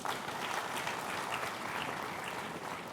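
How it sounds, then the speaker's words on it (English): Applause from an alumni meet audience greets a panel, a continuous dense patter of many hands clapping at even volume throughout with no voices over it. "can we have a round of applause for them?"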